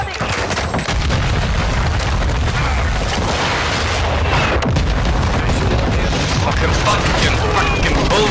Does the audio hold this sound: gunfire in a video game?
yes